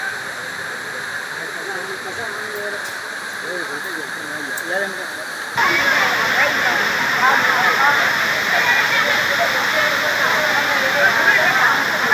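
Agasthiyar waterfall in Tenkasi roars steadily as water pours down, a continuous loud rushing hiss that grows fuller and closer partway through.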